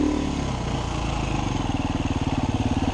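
Husaberg 350 motorcycle engine running on the road, a close, loud single-cylinder thrum with a steady rapid pulse that quickens and firms up toward the end, no voices over it.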